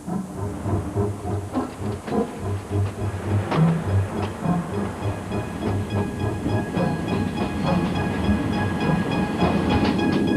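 The Eastern and Oriental Express luxury train rumbles along the rails with a steady low drone, rhythmic wheel clatter and occasional squeals and hiss, heard from on board.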